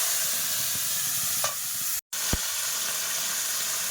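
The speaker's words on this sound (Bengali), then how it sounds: "তেলটা ফার্স্টে গরম হয়ে গেছে তো এবার এই যে বেটে রাখা যে মশলা এই সম্পূর্ণ মশলাটা দিয়ে দিই" Ground spice paste tipped into hot oil for a home-style Bengali sour fish curry with lemon, frying with a steady sizzling hiss and brief stirring scrapes, a short spattering burst at the moment of adding.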